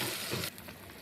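Water hits hot, oil-rich fried masala for a fish curry and erupts into a loud burst of sizzling that drops abruptly to a quieter crackle after half a second.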